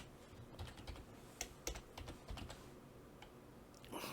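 Someone types on a computer keyboard while editing screenshots, producing a quiet, steady patter of key clicks with a few sharper strokes and a brief louder flurry at the end.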